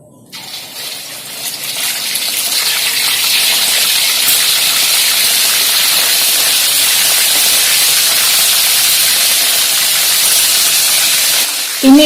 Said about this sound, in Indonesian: Ini goreng hanya sampai dia berubah warna.